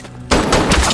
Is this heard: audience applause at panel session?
no